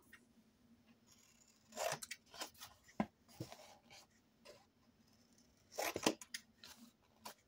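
Scissors snipping through paper for a handmade mini album, a few quiet, close cuts with soft crisp bursts spread out over several seconds.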